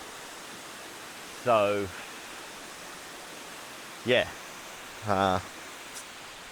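A waterfall spilling over rocks beside a creek with boulders gives a steady, even hiss of falling water throughout, while someone speaks in a few short bursts over it.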